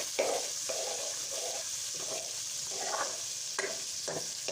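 Onions fry and sizzle in hot oil for a dhaba-style aloo keema, with a soft steady hiss broken by repeated stirring scrapes, fairly quiet and without talk.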